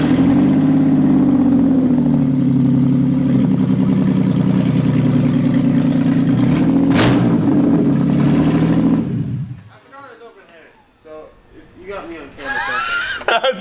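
A BMW E36 328is with a new Stage 1 clutch and new exhaust runs with a loud, steady, low engine drone for about nine seconds. It then cuts away to quieter squeaks and people talking.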